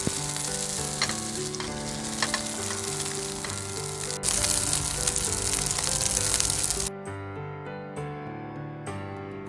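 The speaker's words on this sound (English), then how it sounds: "Cook on medium heat for 30 seconds on each side" Dumpling pancakes fry in olive oil in a pan over medium heat, giving a steady, close, loud sizzle that drops to a quieter crackle near the end.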